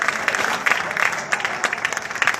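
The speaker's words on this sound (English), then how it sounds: "Let's give a round of applause to our active duty and our veterans who are here with us today" Audience applause at a Nepalese American rally for Hillary Clinton in Washington DC: a dense, steady clapping crowd, fairly close and sustained throughout, with no voices standing out.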